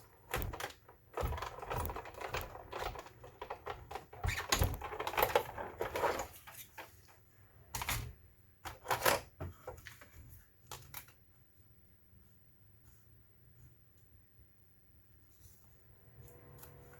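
A die-cutting machine runs a paper card through for another pass, giving clustered clicks, crunches and clacks close by for about ten seconds before it fades to quiet.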